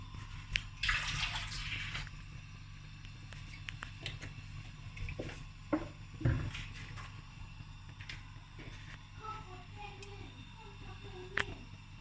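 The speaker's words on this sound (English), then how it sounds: "I'm just going to pour in some olive oil." Olive oil poured into a hot pan for stir-frying vegetables: a brief bright hiss near the start, then quieter sizzling with scattered clicks and taps over a steady low kitchen hum.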